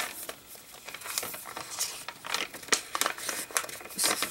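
Stiff watercolor paper crinkles and crackles up close in a quick series of dry rustles, with no talking.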